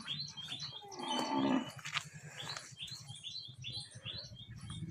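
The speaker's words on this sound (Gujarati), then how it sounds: "આ ભૂરી ગાય છે અમારી બધાયથી ઉપારી" A brown cow on a farm lows once, a drawn-out moo up close, while farmyard noises of other livestock and birds patter in the background.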